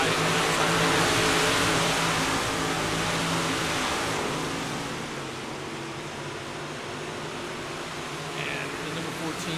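Race cars lap a dirt track at Lernerville late in a 50-lap memorial race, their engines blending into a steady, distant roar that eases slightly midway.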